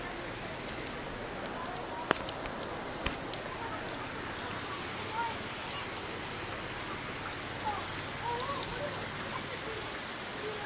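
Heavy rain pours steadily during a flood in the hills of Bandarban, a dense continuous hiss with scattered louder drops, close and unbroken throughout.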